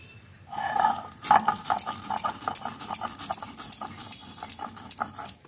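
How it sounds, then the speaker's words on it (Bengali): Green chillies and white mustard seeds are ground into a paste on a stone, giving rhythmic scraping and tapping strokes, close and moderately loud, after a brief quieter start. "এবার আমি কিছু বাটনা বেটে নেবো"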